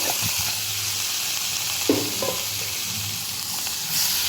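Chopped tomatoes sautéing in a pan for soya chunks fry: a steady, moderate sizzle with occasional spoon scrapes and knocks as they are stirred.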